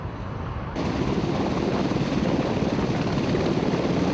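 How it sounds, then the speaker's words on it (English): Twin-engine Sea King search and rescue helicopter with a loud, steady rotor and turbine roar that swells abruptly after a moment and holds constant, close by. "search and rescue, provided by the twin-engine Sea King"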